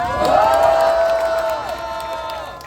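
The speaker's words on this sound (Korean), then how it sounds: "기자분들한테도 박수 한번 해주세요" A crowd at Kim Moon-soo's campaign speech to Paju citizens applauds the reporters, with cheering, a rising shout and sustained crowd noise that eases off gradually.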